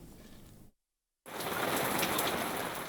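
Rain pours steadily at a schools rugby league final, a loud broadband hiss that cuts out briefly to silence and then resumes even stronger.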